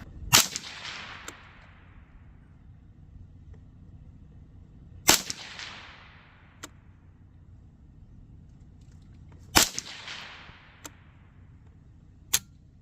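Three sharp, loud rifle shots from a Savage A17 in .17 HM2, spaced several seconds apart outdoors, each a crisp crack with a short decaying tail, followed by faint clicks.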